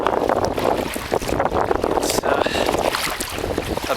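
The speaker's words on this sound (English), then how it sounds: "started out a little windy and it ended up very windy" Strong gusty wind on Lake Hamilton during a kayak ride, buffeting the microphone with constant rumbling and whooshing, loud and continuous throughout.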